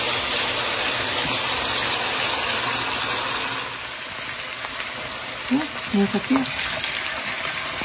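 Potatoes frying in a generous amount of oil for a Spanish tortilla, a steady dense sizzle throughout, with a few brief stirring scrapes near the end.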